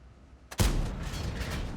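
Tank cannon fired in World of Tanks by an Object 260, a single sharp, loud shot followed by a sustained rumbling tail.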